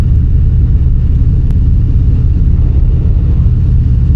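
A 2025 Harley-Davidson Fat Boy Gray Ghost's stock exhaust rumbles loud and deep at a steady idle, close up and unbroken, with no talking.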